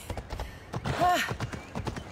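Horse hooves clip-clopping steadily in Assassin's Creed Odyssey, a regular trotting rhythm of moderately close hoof strikes, with a brief whinny or vocal sound in the middle.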